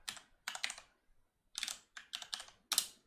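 Keys on a computer keyboard tap in quick clustered bursts with short pauses between, close and fairly soft, with no voices.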